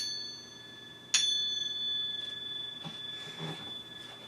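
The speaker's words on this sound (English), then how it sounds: "Let's ring the bell." A bell is struck once, giving a sharp clear ring that sustains as a steady high tone over a quiet room, with faint handling noises toward the end.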